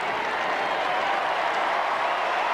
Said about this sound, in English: And Chris Lewis, the big cheer for him, as he also comes on.